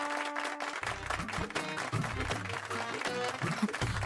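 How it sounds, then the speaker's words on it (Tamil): A crowd at a Tamil television serial's staged dance performance claps along under loud, rhythmic music, with the applause blending into the beat rather than standing alone. "உங்க எல்லாரோட கரகோஷங்களையும் எழுப்புங்க"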